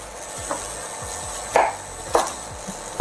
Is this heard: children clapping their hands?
no